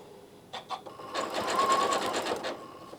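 A sewing machine stitches through a quilt with wide joins and fluffy wadding. A couple of quick needle taps come first, then a steady, fast mechanical whirring run follows, loud and close.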